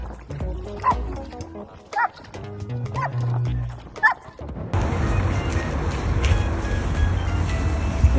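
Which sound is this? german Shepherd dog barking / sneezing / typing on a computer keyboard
german Shepherd dog barking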